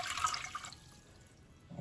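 Half a liter of water pours into a cooking pot for gulab jamun sugar syrup, a bright splashing stream in the first moments that settles into a quiet trickle and drip, close and fairly soft.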